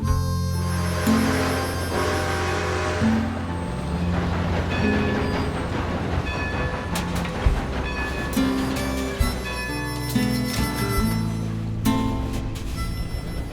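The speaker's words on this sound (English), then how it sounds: "he turned around to hop on a train to Riggs Station" Steam train ride in Red Dead Redemption 2, with a loud continuous rumble, rhythmic clickety-clack of wheels over rail joints and occasional metallic squeals.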